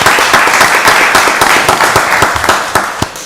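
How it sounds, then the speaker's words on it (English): Brisk applause at a county board of commissioners meeting, close and loud, with sharp individual claps in a quick, dense rhythm that thins slightly toward the end. "Y'all give Susan Morgan a round of applause."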